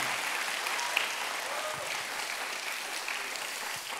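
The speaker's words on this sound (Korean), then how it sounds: "정말 진심으로 감사합니다는 표시로 함께 박수하겠습니다" Church congregation at a Friday evangelism service applauding, a steady, dense, sustained wash of clapping with a faint voice beneath it.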